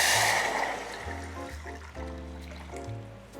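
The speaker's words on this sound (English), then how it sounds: "Okay, so I'm adding 2 cups of water." Two cups of water poured into a pot for masala chai, a close, continuous gurgling splash whose pitch shifts as the vessel fills, with no talk.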